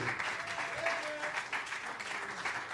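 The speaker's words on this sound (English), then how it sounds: "Give him a round of applause" A crowd applauds jazz saxophonist Joe Lovano at a tribute show, a continuous wash of clapping that sounds fairly distant and even throughout, with a few voices faintly mixed in.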